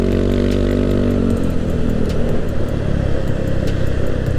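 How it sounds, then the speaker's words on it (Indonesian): Loud, close engine roar from a Yamaha Aerox 200cc bore-up scooter-style motorcycle with a custom exhaust, a steady droning rumble that shifts pitch partway through, with no talk over it. "Cuman gue nggak suka suara pakai knalpot begini sebenarnya sih."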